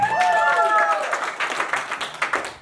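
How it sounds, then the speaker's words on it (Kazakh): Crowd applause at a 50th birthday celebration, a burst of many hands clapping that rises with a tonal voice or music at first, then continues as uneven, lively clapping for a few seconds. "Ағама бір шапалақ болсын."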